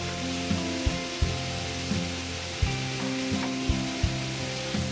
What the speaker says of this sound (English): Fry the pork till we cannot see any very raw slice.